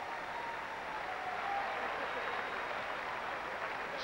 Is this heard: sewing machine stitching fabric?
no